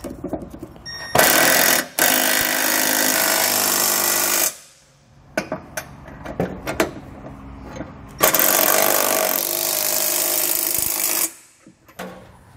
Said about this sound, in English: To tighten it down, you can use a 19 millimeter wrench and socket, or you can use a 3/4 inch wrench and socket.